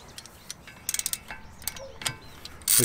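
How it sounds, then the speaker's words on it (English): A Torx bit turns out a set screw on a VW MK6 brake rotor, giving faint close clicks and a short burst of quick ratcheting ticks, ending in a louder metallic rattle. "the next one is your Torx which we're gonna need to remove this guy right here"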